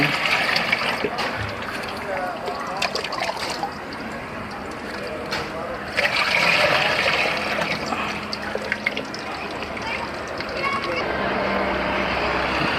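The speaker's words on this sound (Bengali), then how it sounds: "নতুন পানি অ্যাড করে দিচ্ছি।" Water pours and splashes steadily into an aquarium tank, a continuous gurgling rush with a person talking over it.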